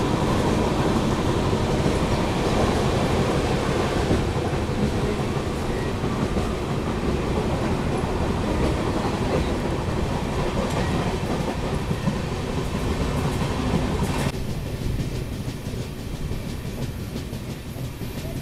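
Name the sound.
Ranchi Rajdhani express train overtaking on parallel track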